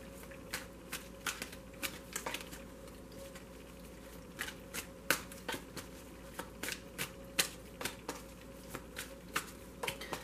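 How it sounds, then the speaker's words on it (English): Tarot cards shuffled by hand, a quiet run of crisp riffling bursts and soft slaps repeating in an uneven rhythm, close and alone without talk. "We're going to shuffle."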